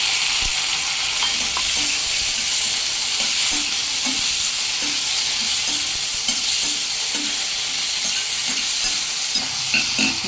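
Onion and tomato frying in a pan for a kabuli chana curry, a loud, close, steady sizzle with rhythmic stirring scrapes recurring roughly every half second.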